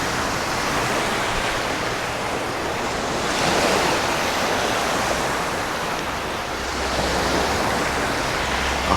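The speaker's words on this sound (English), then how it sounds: "He doesn't mind the sea when it's not too choppy." Sea waves wash steadily onto a UK shore at sunrise, a continuous broad roar that swells and recedes in slow surges, with wind buffeting the microphone throughout and no voices.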